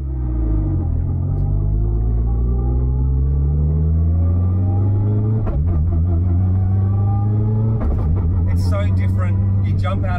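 A modified Mitsubishi Evo street car, a contender in an Australian ultimate street car contest, drives with a loud, steady engine drone that rises and falls through gear changes.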